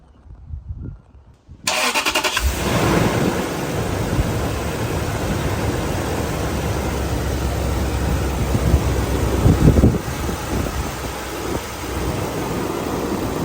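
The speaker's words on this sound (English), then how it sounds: "Next is going to be starting the truck up and letting it idle until all the air is out of the system." Toyota Tundra pickup engine cranks and catches after a radiator replacement, then settles into a steady idle. A few faint clicks come first, then a loud, abrupt start, a continuous idle rumble, and a brief rev bump.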